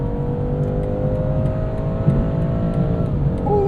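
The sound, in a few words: turbocharged four-cylinder car engine accelerating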